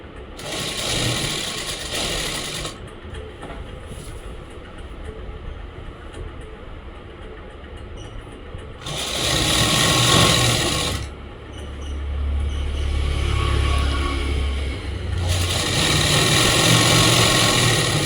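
A sewing machine stitching palazzo pants in bursts of mechanical whirring, with a steady background hum between the runs.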